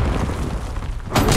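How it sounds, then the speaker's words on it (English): A frag grenade in Call of Duty Black Ops 6 multiplayer bursts with a sudden loud boom and crackling debris near the end, following a steady din of game noise. "Frag thrown."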